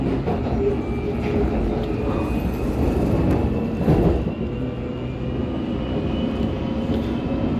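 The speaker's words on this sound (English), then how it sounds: "I just really can't get over these sounds on these S-Dock trains" A London Underground S Stock train on the Metropolitan line runs with a steady, loud rumble and faint high whine throughout, with no talk.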